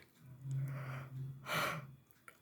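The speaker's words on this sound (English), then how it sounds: "Sorry for the yawn." A single drawn-out human yawn, a low voiced breath that swells and then breaks into a louder breathy exhale, heard close and alone in a quiet room.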